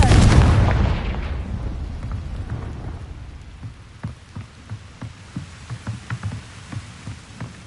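A Confringo blasting curse explodes in the video game Hogwarts Legacy: a loud booming burst fading into a rumbling tail, followed by a scatter of soft crackling debris patters.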